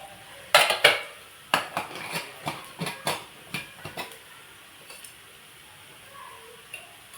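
A spoon clinks and scrapes against a metal pan as red chilli powder, coriander powder and garam masala are stirred into garlic and ginger for anda tawa, with a run of distinct close taps that thin out toward the end.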